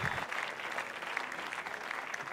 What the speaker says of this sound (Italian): facciamo un applauso a questa bellissima realtà qui di Spoltore